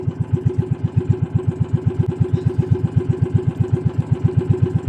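A motorcycle engine that has been hard to start and keeps stalling idles right up close, thumping loudly in a fast, steady putter for several seconds with no voices.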